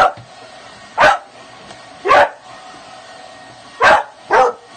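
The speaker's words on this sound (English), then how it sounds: "She's barking about, and you have no reason to be barking." A dog lets out four short, sharp barks at irregular intervals, close and loud, in an indoor room where a hair dryer is mentioned, with quiet background between the barks.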